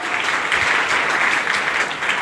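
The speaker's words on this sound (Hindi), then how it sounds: "इसके लिए एक जोरदार ताली बनता है" Loud, dense applause from a business-meeting audience, continuous clapping filling the short clip without a break.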